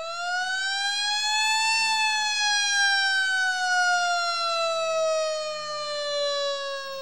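A historic fire department alarm siren from Takoma Park wails steadily and loudly, its pitch rising slowly and then gradually falling in one long sustained tone with no voices.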